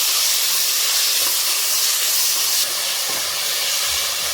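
Ginger garlic paste sizzles in hot oil for a chicken curry, a loud, dense, steady hiss filling the whole stretch with little variation and no voices.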